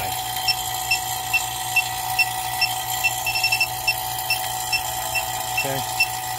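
A refrigerant leak detector checks an air conditioner system, giving short, repetitive electronic beeps at a quick, steady pace over a constant hum of the vacuum pump.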